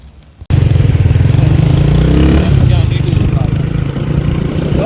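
A 125 cc motorbike rides along the GT Road toward Upper Dir in Pakistan, its engine putting out a loud, steady, rapid pulsing drone under continuous wind rush, with someone talking over it.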